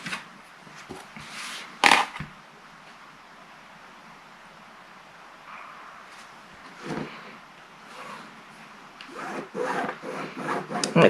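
A pencil scrapes diagonal lines across the backs of fabric quilting squares, soft rubbing strokes in short bursts with quiet pauses between them, close and fairly faint.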